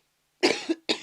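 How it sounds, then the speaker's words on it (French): Two harsh chesty coughs from a person with a cold, close and loud, the first drawn out with a rough tail and the second short, after a moment of silence. "J'ai attrapé froid, excuse-moi de tousser."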